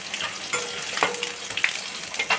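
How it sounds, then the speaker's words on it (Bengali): Dry red chillies and panch phoron sizzle in hot oil left over from frying pointed gourd, on a low flame. A steady crackling hiss is broken by sharp pops and a few stirring clicks, and nobody speaks. "শুকনো লঙ্কা পাঁচফোড়নটা ভাজা হয়ে গেলে আমি কিন্তু আঁচ একদম কমিয়ে রেখেছি"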